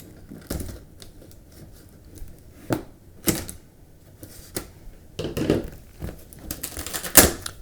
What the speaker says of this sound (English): there's another seal that you have to cut before you can actually get into it